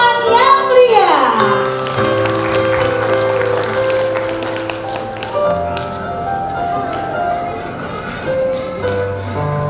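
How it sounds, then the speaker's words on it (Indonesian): Applause from an audience at a school arts performance, dense clapping mixed with music tones and crowd noise, lasting the whole stretch. "Kita beri tepuk tangan yang meriah."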